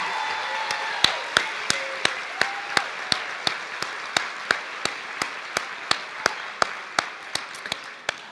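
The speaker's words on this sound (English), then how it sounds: "Give them a round of applause" Applause at a school system opening session for newly hired staff, heard as a rhythmic series of sharp, evenly spaced claps over a softer background of clapping from the crowd, lasting several seconds.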